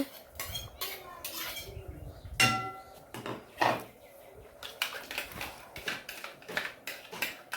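Beetroot paste is scooped and scraped into a metal vessel, producing irregular clinks, knocks and scraping strokes of a spoon against metal, with a couple of louder bangs.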